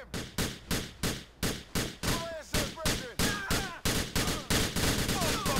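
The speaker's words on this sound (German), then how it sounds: "Oh, das war ein schöner Schuss." Rapid, loud gunshots fire in a steady rhythm, roughly two per second, with sharp cracks and ringing tails, weapon effects from the video game GTA IV.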